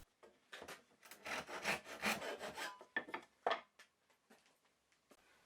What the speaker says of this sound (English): Using a tenon saw, I cut off the excess popsicle stick from the end of each guide.